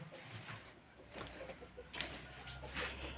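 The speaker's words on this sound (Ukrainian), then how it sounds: "О, ось курочка." A hen with patchy, worn feathers clucks near a fence in a rural yard, a few soft, short clucks scattered over about three seconds, faint and somewhat distant against steady outdoor background noise.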